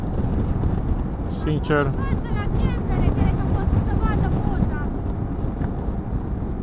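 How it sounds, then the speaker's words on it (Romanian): Strong wind buffets the microphone on Norway's Atlantic Road during a motorcycle trip, a constant low roaring rumble that runs throughout while someone speaks over it. "bate vântul"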